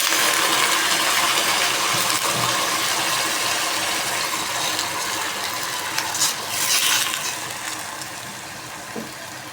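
Squid goes into a hot cooking pan for squid adobo with cabbage, giving a steady loud sizzle with a few clinks and stirring scrapes, close up and without talk.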